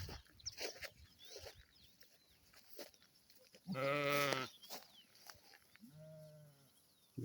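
A flock of sheep on open ground gives two clear bleats, one long and loud, one shorter, amid faint rustling and scattered distant noises.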